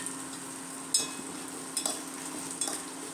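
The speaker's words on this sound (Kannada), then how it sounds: "ಇದನ್ನು ಹಾಕಿ ಎಣ್ಣೆಯಲ್ಲಿ ಸ್ವಲ್ಪ ಫ್ರೈ ಮಾಡೋಣ" Guntur and Byadgi red chillies fry in oil with a soft, steady sizzle, broken by a few brief clinks and scrapes from stirring.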